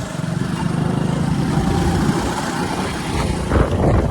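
A motorbike engine drones steadily while riding along a road, a loud continuous rumble with wind buffeting and no pauses.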